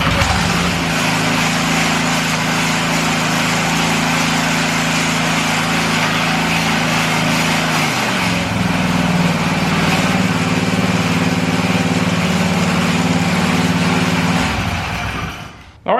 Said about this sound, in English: the engine is back together and is running perfectly fine now.